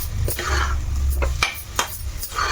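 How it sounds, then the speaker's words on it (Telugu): Prawn masala with ground coconut is stirred and fried in a pan. A utensil scrapes and clinks against the metal in several quick strokes over a low frying hiss, close up and without speech. "ఇప్పుడు బాగా ఇది మళ్ళీ ఇంకొక ఐదు నిమిషాలు మంచిగా ఫ్రై చేసుకోవాలి"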